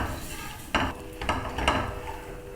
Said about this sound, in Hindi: 2-3 दफ़ा आपने चम्मच हिलाना है